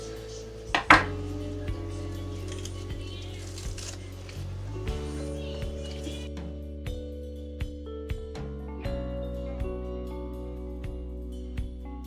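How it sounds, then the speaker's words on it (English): A knife chops half an onion on a cutting board in a series of sharp, evenly spaced taps, with a louder knock near the start and a steady hum underneath. "We're going to start by chopping half an onion."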